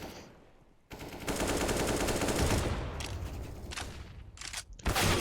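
Sustained automatic gunfire from a CS:GO match rattles loud and dense for several seconds after a brief quiet start, then tapers into scattered bursts with a final sharp volley.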